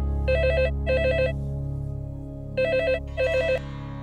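A telephone rings in two pairs of bursts with a pause between them, loud and close, over a low steady hum.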